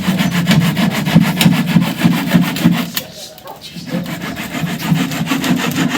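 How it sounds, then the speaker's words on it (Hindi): A saw blade cuts through scrap wood at home in steady rapid back-and-forth strokes, a close, loud rasping rhythm that pauses briefly midway before resuming. "आरी ब्लेड"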